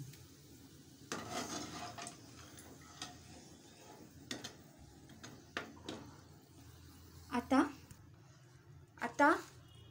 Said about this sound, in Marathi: तर मिरच्या छान खरपूस तळून घेतलेल्या आहेत। आता पोह्यांवर काढून घेऊया।